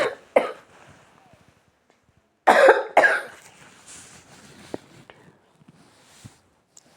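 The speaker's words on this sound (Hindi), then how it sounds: "खांसी जाना ही नहीं चाह रही है" A person coughs in short harsh bursts, first a couple near the start, then a heavier double cough, followed by quiet room noise and faint clicks.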